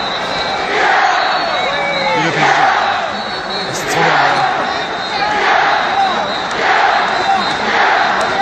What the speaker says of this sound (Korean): 한화 팬들 야유. 야유하고 있습니다.